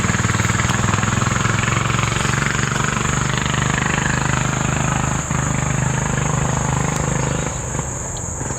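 Turbocharged Temu 10HP diesel engine on a go kart runs steadily and loud throughout, a dense droning roar with a low throbbing pulse, easing off slightly near the end as it rounds corners.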